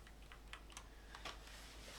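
Soft, quiet taps of computer keyboard keys pressed while sculpting in ZBrush, a handful of light scattered clicks at an uneven pace over a low steady hum, with no talking.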